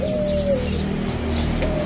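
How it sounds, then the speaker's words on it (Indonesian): Birds kept in a fishing bait shop in Cililitan, East Jakarta, giving soft cooing and chirping calls over a constant room hum, with a few sharper high notes in the background. "Burung di sini banyak nih pilihannya nih."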